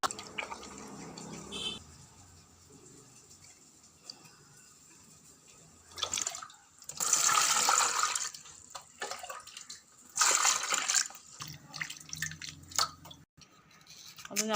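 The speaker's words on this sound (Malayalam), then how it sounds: "അപ്പോൾ നമ്മളിത് കഴുകി എടുക്കണം കേട്ടോ." Purple yam being washed by hand under a running tap, with two louder bursts of splashing water amid quieter dripping and handling sounds, close up with no talk.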